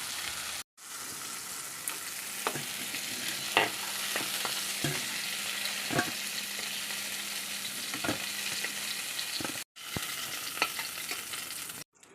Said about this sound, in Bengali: পটলগুলোকে আমি একটু ভাজা ভাজা করে নিয়েছি এখন আমি পটলগুলোকে নামিয়ে নেবো